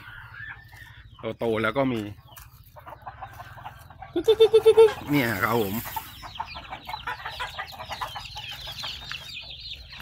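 Chickens and day-old chicks cluck and peep close by at dusk, with a brief burst of loud calls and someone talking over them.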